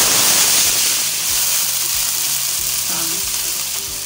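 Chickpeas dropped into hot oil in a pan for chana chaat, loud dense crackling sizzle that holds steady and eases slightly toward the end, close up with no talking.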